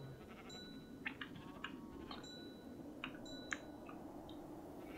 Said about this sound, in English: Yes, they are sheep.